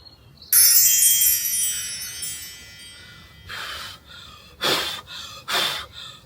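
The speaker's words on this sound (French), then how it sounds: "je vais souffler et faire un vœu" Blowing on a dandelion: a long breathy blow after a short intake of breath, followed later by several shorter puffs, close to the mic and fairly loud.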